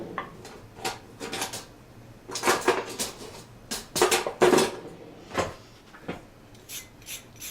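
Carrots being scraped and rubbed clean by hand while preparing a beef pot roast, a close, rhythmic run of rasping strokes in uneven bursts with short pauses between them.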